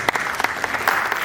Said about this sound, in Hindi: लेकिन उनके लिए एक बार तालियां बजा दीजिए